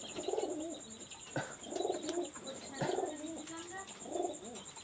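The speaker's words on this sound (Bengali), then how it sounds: "এবং একটা ফিমেল কবুতর" A pigeon coos repeatedly at close range, four rolling low bursts in an even rhythm over a bed of chirping birds and insect buzz; the bird is a female fancy high-flyer pigeon of a golden Rampuri type.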